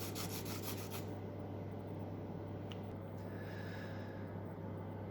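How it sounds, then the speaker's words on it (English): A high-density foam sanding block rubs gently across a damaged foam DLG Chaser glider wing in quick, soft rasping strokes, faint and close, then stops to quiet background hum. "I just glue it on and just gently sand down the area"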